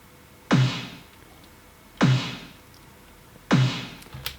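An EDM snare run through a stock Cubase amp simulator plugin strikes three times at an even pace, each hit loud and punchy with a gritty, saturated body and a longer noisy tail.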